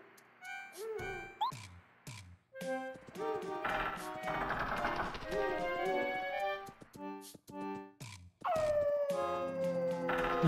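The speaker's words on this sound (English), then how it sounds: "Do you guys hear that howl?" A wolf howls in the Forever Forest area of the Paper Mario video game, long rising and falling wails over soft ticking game music, loud and close, with no talk.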